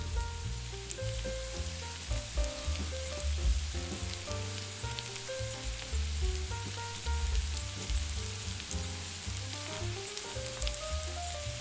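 Cut tomatoes hit a pan of tender onion for an Italian pasta sauce, a continuous soft sizzle running beneath steady background music.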